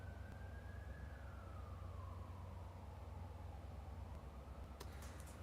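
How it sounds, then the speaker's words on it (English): A single emergency vehicle siren wails faintly in the distance, sliding slowly downward in pitch as it passes through a city, under a steady low rumble of urban traffic. "Wow, that's so many sirens."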